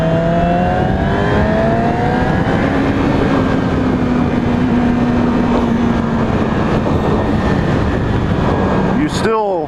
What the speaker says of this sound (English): kind of have to rev the crap out of it to get it to really get the power.